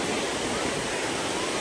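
Silver Falls near Kodaikanal pouring down hard, a dense, steady, broadband roar of heavy falling water that stays loud and unbroken throughout, with no voices over it.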